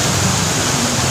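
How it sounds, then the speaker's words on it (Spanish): Steady broadband roar of the Meléndez river flowing full after a few days of winter rain at La Fonda, Villa Carmelo, loud and continuous with no voices. "Suficiente caudal de agua por estos 4 días solamente de invierno acá en la fonda en el río Meléndez."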